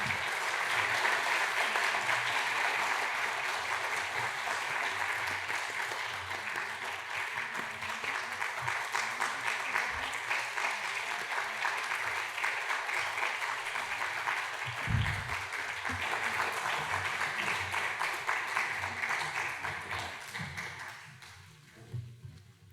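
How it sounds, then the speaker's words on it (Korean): A congregation at a Sunday church service breaks into vigorous applause of encouragement as scholarship students turn and bow, sustained dense clapping for about twenty seconds before tapering off at the end. "뒤를 돌아 인사할 때 힘찬 격려의 박수 부탁드립니다"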